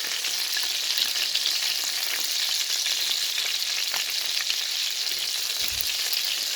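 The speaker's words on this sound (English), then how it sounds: "they're going to fry 3 or 4 minutes on each side" Old-fashioned meatballs frying in hot grease make a loud, continuous crackling sizzle that holds steady close up, with a soft low thump near the end.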